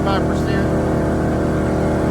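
A Cummins Onan 4500 portable generator drones steadily at 75% load, a loud continuous engine hum with a throbbing low rhythm.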